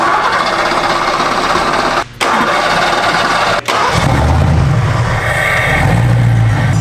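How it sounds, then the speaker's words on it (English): A Ford Mustang GT V8 cranks with brief interruptions, then catches and settles into a loud, close idle, with no talk. "We're gonna fire it up, check the timing, make sure everything's good"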